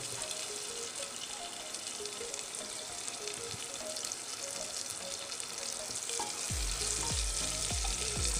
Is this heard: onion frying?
yes